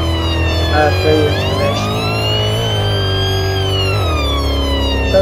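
An emergency vehicle siren in Roblox Redwood County wails loud and close, sweeping up and down continuously while a voice briefly talks over it.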